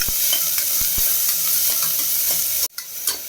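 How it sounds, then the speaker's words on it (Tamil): Chopped onion and green chili sautéing in a pan for a South Indian side dish, with a steady close sizzle, several sharp scraping stir strokes, and a brief drop to near silence before the frying resumes. "ஒரு பெரிய வெங்காயம் கொஞ்சம் வதக்கிக்கலாம்"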